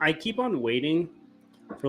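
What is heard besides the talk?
No distinct noise like a dog, phone or traffic.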